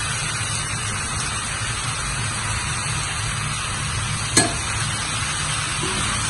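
Malabar spinach greens frying in a pan with pressed dried fish, a steady broadband sizzle with one brief clatter midway, close and continuous with no voices.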